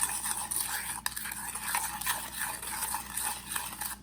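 Pork sauce for bánh mì thịt xá xíu is stirred in a bowl, a quiet, continuous scraping with soft rhythmic swishes and a sharp clink near one second, faint voices murmuring beneath.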